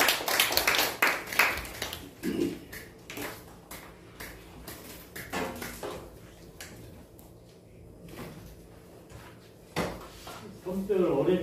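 Audience applause at the close of a Genesis lecture at a theological seminary, with dense clapping loudest at the start, then thinning into scattered claps and light room noise.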